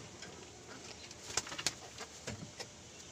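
Domestic pigeons at evening feeding give soft, low cooing calls mixed with a few sharper bird sounds, faint and fairly close, with no talking.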